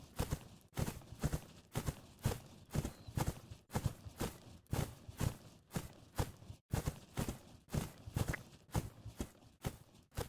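Rhythmic hoof beats of a horse performing a dressage piaffe on soft footing, a steady cadenced thudding repeated in pairs, fairly close, with no talking.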